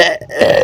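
A single drawn-out burp, loud and close, voiced and tonal with a brief dip near the start before swelling again, heard alone with no talking.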